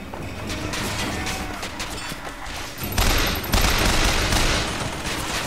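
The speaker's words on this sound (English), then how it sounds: "Someone or something is still shooting at me." Gunfire in the video game BioShock Infinite, dense rattling volleys and booming shots layered with game noise, loud and continuous, growing heavier partway through.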